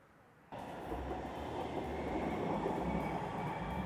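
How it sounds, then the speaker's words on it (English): A new Docklands Light Railway train rolls past up close, its rail rumble starting abruptly out of quiet and holding steady and loud with a low hum beneath, with no voices. "So that's the new DLR trains."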